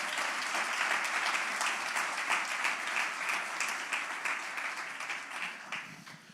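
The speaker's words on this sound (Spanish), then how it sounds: "Pues dale un aplauso al Señor entonces." A church congregation applauds steadily for about six seconds, a moderately distant, even wash of many hands clapping that slowly thins toward the end, with no talk over it.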